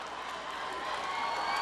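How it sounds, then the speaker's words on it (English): A high school basketball crowd roars and applauds after a winning shot at a 2017 state championship game between Tulsa Memorial and Claremore, a dense, sustained wash of cheering that swells slightly toward the end. "The crowd erupts, his teammates erupt."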